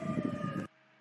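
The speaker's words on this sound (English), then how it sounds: "The police are coming, the firefighters are coming, the ambulance are coming." Emergency vehicle sirens from police, fire and ambulance units sound as a steady, sustained wailing tone with a rumbling engine bed, then cut off abruptly into near silence.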